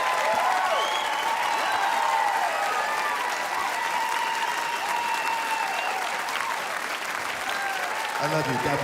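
A large studio audience claps and cheers at a television talk show, sustained loud applause with whoops and whistles rising over it, and a voice breaking in at the end.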